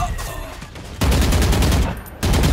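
Gunfire in a video game comes as rapid, loud bursts of automatic shots, with two sharp onsets that each open a sustained volley, while players talk faintly.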